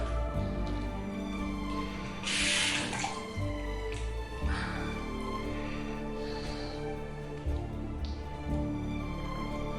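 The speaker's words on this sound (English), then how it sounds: "give it a rinse off" Water runs steadily from a sink tap to rinse shave soap off, with splashy bursts as hands pass through the stream under a constant hum. Nobody speaks.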